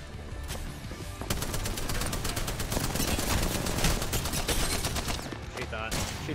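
Spitfire machine gun firing in Apex Legends during a team fight, a loud sustained automatic burst of rapid rounds that runs almost the whole stretch, with faint voices now and then beneath it.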